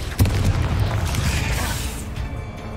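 A Confringo blast spell goes off in the game Hogwarts Legacy, a short deep boom with a crackling burst that fades over a couple of seconds, with no talk.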